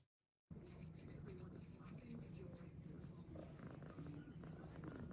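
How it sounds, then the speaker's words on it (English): A shelter cat purrs in a continuous, steady rumble close to the microphone, starting after a brief silent moment and running unbroken to the end, with faint background noise. "Listen to that purring."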